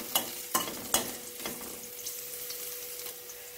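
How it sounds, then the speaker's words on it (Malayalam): Green chilies stirred in a hot pan for a moorumgayila egg thoran, three sharp metallic knocks of a spoon at the start, then a soft sizzle with faint scraping. "ഈ പച്ചമുളകിൻ്റെ പച്ചപ്പ് ഒന്ന് മാറുന്നതിനായിട്ട് 1 മിനിറ്റ് നമുക്കൊന്ന് ഇളക്കി കൊടുക്കണം"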